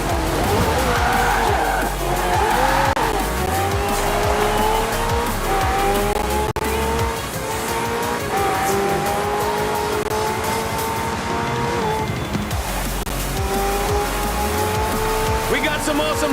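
Hypercars race in Forza Horizon, engines roaring loud and continuous with repeated tire squeals and skids, a voice talking over the action throughout.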